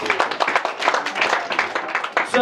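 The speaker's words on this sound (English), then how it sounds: "Let's have a round of applause for Dan, please." Wedding guests at the speeches clap together in a dense burst of applause, steady and close, with a little voice mixed in beneath the clapping.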